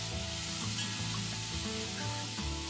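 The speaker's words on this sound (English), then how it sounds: "once the oil is hot, we're going to add 3 medium-sized onions which we have sliced. And we're going to saute these onions till they are nice," Sliced onions, three medium ones, sauté in hot oil for an egg curry, giving a steady, dense sizzle with faint stirring scrapes and no talking.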